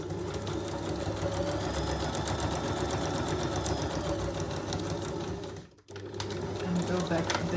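A sewing machine stitches through paper in a fast, continuous mechanical whir with rapid needle clatter, close and steady, pausing briefly near the end before resuming.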